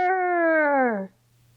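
A voice imitates an angry bear's growl with one loud, sustained, slowly falling tone lasting about a second, close up, then dropping to near silence.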